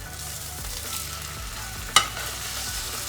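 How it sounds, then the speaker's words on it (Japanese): Yellowtail (buri) fries in olive oil in a pan, giving a continuous soft sizzle and crackle, with one sharp clink partway through. "フライパンにオリーブオイル敷きます。 そしたらぶり焼いていきましょう。"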